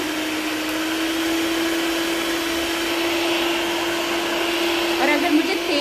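An electric hand mixer whirs steadily at close range as its speed setting is raised, a constant high motor hum that holds for several seconds with a slight rise near the end.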